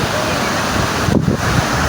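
Sea surf rolling onto a beach near the Khanderi and Underi islands, a loud continuous roar heavy with wind buffeting the microphone.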